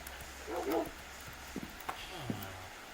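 A Minecraft pet-mod dog gives a few short, soft barks and yips at moderate distance, scattered over a faint steady background hum.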